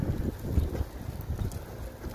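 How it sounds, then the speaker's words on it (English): Low, blustery wind buffeting a microphone, rumbling unevenly with soft thuds throughout. "And it's windy out."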